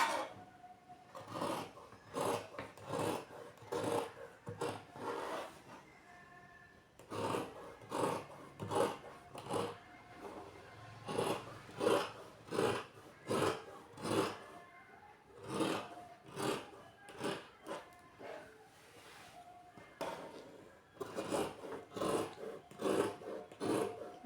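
Scissors cutting through cloth, heard as a steady series of sharp, rasping snips repeating about every half second, close and fairly loud, with a few short pauses and no talking.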